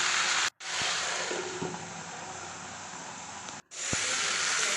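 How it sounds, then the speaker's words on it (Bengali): Mixed vegetables for shukto fry under a lid in a covered pan, giving a steady, close, even hiss that cuts out briefly twice before resuming. No one speaks. "আমি এবার ঢাকা দিয়ে দিয়েই ভাজবো"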